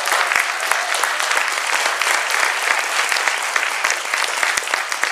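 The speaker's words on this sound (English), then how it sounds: "give her a big applause for that" A conference audience applauds a keynote speaker at a 2012 energy fair: dense, continuous clapping from a large crowd that holds an even loudness throughout, with no voices.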